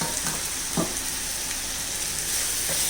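Onions sizzle steadily in hot oil while being stirred for a prawn roast, with a constant frying hiss and a few soft scraping strokes of the spoon against the pan.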